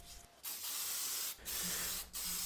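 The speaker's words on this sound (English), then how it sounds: "this can is kind of stuttering a little bit because it is getting old" An aging spray paint rattle can sputters as it sprays, giving three close, hissing bursts with short dropouts between them.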